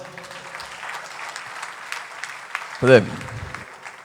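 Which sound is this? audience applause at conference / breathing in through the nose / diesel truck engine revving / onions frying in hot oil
audience applause at conference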